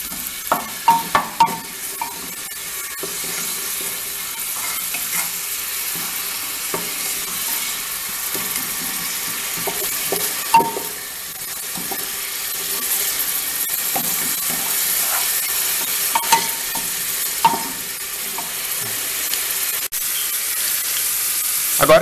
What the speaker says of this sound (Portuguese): vou colocar a cebola, o alho e vou mexer aqui até eles ficarem meio dourados.